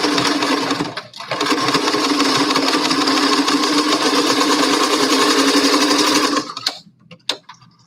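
Sewing machine stitching fabric with a straight stitch, a loud, fast, steady mechanical whir that pauses briefly near the start, runs for several seconds, then stops, followed by a few faint clicks.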